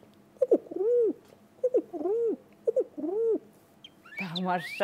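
A voice imitates birdsong, producing three repeated rising-falling whistled chirps in a steady rhythm, followed by a brief spoken word.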